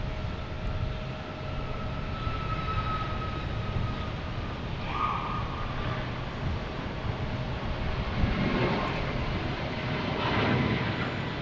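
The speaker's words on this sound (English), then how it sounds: "we have Southwest taking off, heading to Nashville, 737 MAX 8" A Southwest Boeing 737 MAX 8 takes off at Boston Logan, its engines a moderate, steady rumble with a thin whine, heard from a distance and swelling slightly near the end.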